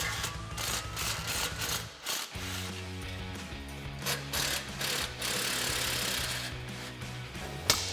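Impact wrench with a 14mm socket zipping out exhaust spring bolts ahead of the main muffler on a Tacoma, loud rattling hammering bursts with a short break near the start, close and steady.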